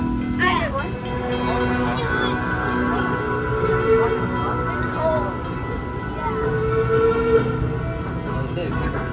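The Busch Gardens Williamsburg railway ride train rolls along with a continuous rumble and tonal mechanical hum, some higher whistle-like tones drifting over the top, heard close and steady throughout.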